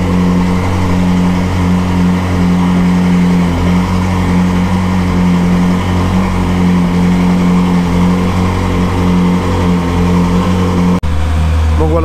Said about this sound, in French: tu vois là elle démarre à froid, elle fait beaucoup de bruit